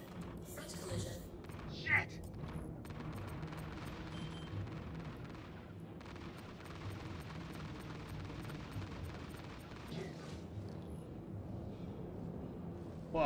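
Continuous gunfire from aircraft guns in the Cat's Fury video game, a dense sustained rattle with booming bursts near the start, heard under background game sound and talking.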